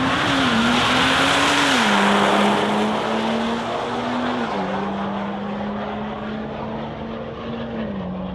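A turbocharged Barra-engined car is hot lapping, producing a loud, sustained engine drone whose pitch rises and dips slightly with throttle, with the roar fading toward the end.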